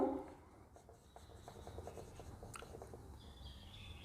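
A pen scratches steadily across paper as a sentence is written by hand, a soft continuous rasp of short strokes at low volume with no one talking.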